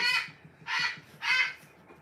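A pet bird gives three loud, harsh calls in a row, close by, with short gaps between them and a faint low rumble underneath.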